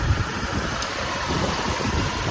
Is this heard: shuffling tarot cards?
no